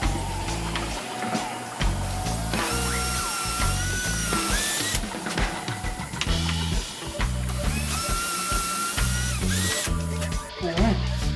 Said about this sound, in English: I'll go ahead and drill these holes.